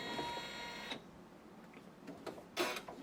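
Sewing machine starting on fabric with a short whirring mechanical run, then a faint hum and a brief louder clack near the end, close and quiet.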